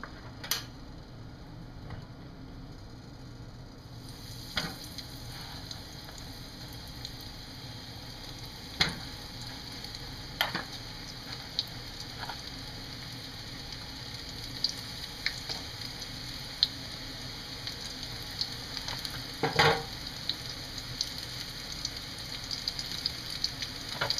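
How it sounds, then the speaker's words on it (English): Onion rings deep-fry in hot oil: a steady, even bubbling hiss runs throughout, dotted with sharp little pops and crackles at irregular intervals. "Just let them fry for a couple minutes until they're golden brown."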